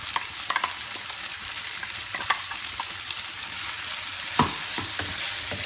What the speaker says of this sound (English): So the tofu is cooking nicely with the paste for 3 minutes.